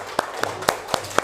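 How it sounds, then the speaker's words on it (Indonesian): A few separate claps in a classroom for a student who answered correctly, about five sharp hits spaced roughly a quarter second apart over a low steady hum, with no talking. "Kasih tepuk tangan untuk Diandranya"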